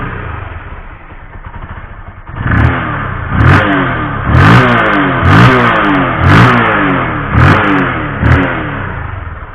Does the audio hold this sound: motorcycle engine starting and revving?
yes